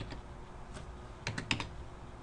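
Numbers typed on a computer keyboard, with scattered single keystrokes followed by a quick cluster of four or five clicks, close but quiet, over faint background hum.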